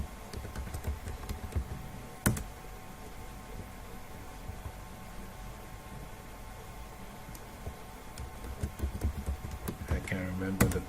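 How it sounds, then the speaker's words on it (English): A password is typed on a computer keyboard, with sparse, quiet key clicks and a short burst of faster tapping near the end over a low steady hum. "let me type in my password here"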